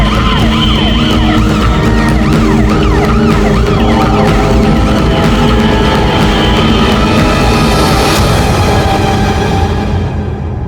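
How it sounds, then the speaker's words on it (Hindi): A loud ambulance siren wails continuously in a Mumbai crime scene, its rising and falling sweeps repeating throughout with steady traffic rumble underneath and no voices. "एम्बुलेंस आई क्या?"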